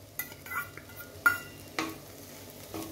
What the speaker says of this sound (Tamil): இதை சேர்த்து நல்லா மிக்ஸ் பண்ணிக்குவோம்